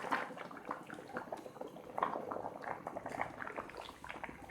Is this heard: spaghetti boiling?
yes